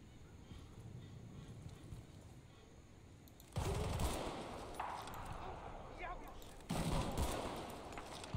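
Bursts of gunfire in Battlefield Bad Company 2 erupt as two sharp, loud volleys over a quieter stretch of distant shooting, with a voice speaking over the action.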